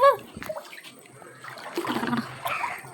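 Knee-deep floodwater sloshes and splashes nearby as someone wades through it around a house, with irregular surges of movement and a faint voice at the start.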